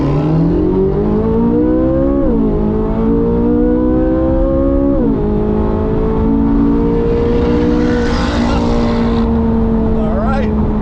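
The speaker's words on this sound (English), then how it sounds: "The Z06 definitely has the Mustang until probably a little higher in the RPM range" A C8 Corvette Z06 and a modified supercharged Mustang accelerate hard in a street race, one loud engine drone climbing through the revs with two shift drops, steady and close, as voices talk over it.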